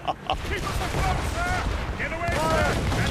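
Ship cannons fire a broadside in the naval battle of Assassin's Creed Rogue, a loud, continuous rumble of booming blasts that carries on while voices shout over it.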